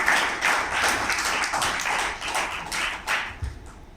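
Applause for a speaker at a Roundtable event, uneven clapping from a small group, fairly close, with individual claps standing out in a short burst.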